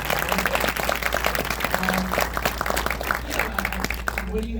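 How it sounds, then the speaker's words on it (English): An audience applauds a guest at a live talk event, a dense, steady patter of many hands clapping at moderate loudness with some crowd murmur mixed in, sustained for a few seconds without fading. "we want to give another round of applause for Jay."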